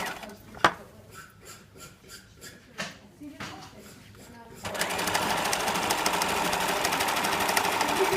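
A sewing machine stitches fabric close to a cord at an art college workshop, starting after a few seconds of quiet clicks and a spoken voice, then running as a loud, steady, continuous whir through the rest of the clip.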